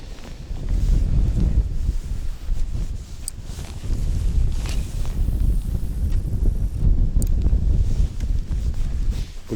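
Strong gusty wind buffets the microphone on an open shore during a cold, drizzly fishing trip, a steady low roar rising and falling throughout with faint rustling and no talk.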